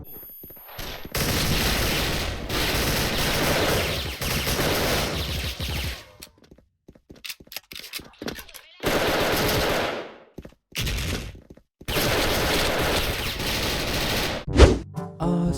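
Tiger Galil rifle gunfire in the Special Force online shooter, loud sustained automatic bursts separated by short pauses, with a sharp impact near the end.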